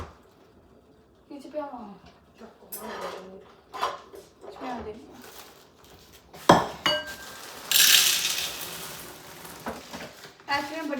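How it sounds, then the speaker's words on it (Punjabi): People talk while oil sizzles in a pan; a clatter of cookware is followed by a loud burst of hissing as spring rolls fry. "ਤਲਣਾ ਸਪਰਿੰਗ ਰੋਲ ਨੂੰ"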